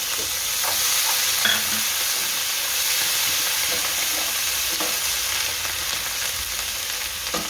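Garlic, ginger and chillies sizzle steadily in hot oil in a Gujarati home kitchen while a cowpea curry is made, a continuous close frying hiss with faint stirring clicks and no talk.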